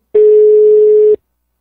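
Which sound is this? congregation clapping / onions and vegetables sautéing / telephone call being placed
telephone call being placed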